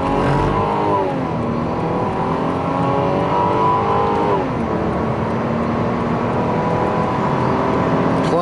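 A 2001 Lexus GS300 sedan powered by a Toyota Supra engine accelerates steadily, its engine note climbing smoothly and continuously from inside the car, loud and close with a shift partway through and no talking.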